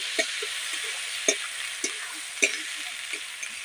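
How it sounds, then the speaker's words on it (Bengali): Magur fish curry being stirred with salt in a frying pan, a soft steady sizzle broken by several distinct scraping strokes of the spoon at uneven intervals, close and without speech. "এবং লাস্টে দেবো আমি লবণ দিয়ে আমি নেড়ে নিচ্ছি"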